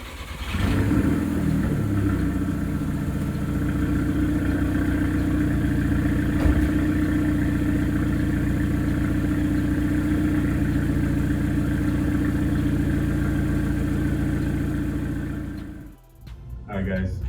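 A Volkswagen GTI on air suspension runs with a steady, close engine drone that holds evenly for about sixteen seconds, then briefly dips near the end.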